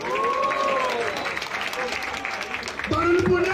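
A live crowd at a Brazilian rap battle claps and cheers loudly for a rapper, with steady dense applause throughout and a host's voice shouting over it.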